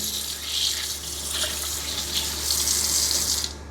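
Tap water runs steadily into a sink while raw meat is washed, a continuous close hiss and splash that cuts off abruptly at the end.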